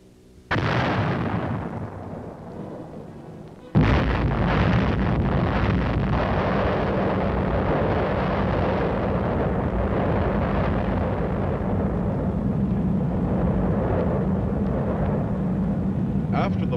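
An atomic explosion on a battlefield, a sudden massive blast followed by a long, steady, roaring rumble that fills the scene and persists without letting up.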